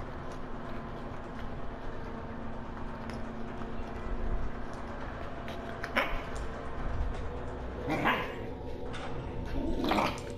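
A dog chewing a bone and throwing a fit: a few scattered short barks and yelps over a constant background hum, with louder bursts near the end.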